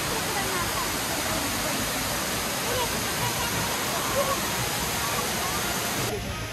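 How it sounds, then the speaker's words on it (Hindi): A waterfall at Mont Tremblant roars as a steady, dense rush of water, loud and unbroken throughout. "कोई झरने का व्यू दिखाते हैं"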